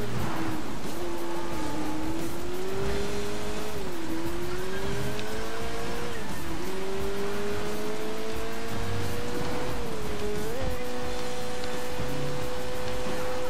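A car in the Sleeping Dogs video game drives with a steady engine hum that rises and falls through several gear shifts, loud and continuous, with faint tire noise beneath.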